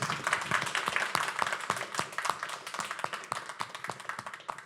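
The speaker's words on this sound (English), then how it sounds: "get a round of applause for him" An audience at an industry event applauds after a talk, a dense patter of many hands clapping that stays steady for several seconds and slowly thins, with no talking.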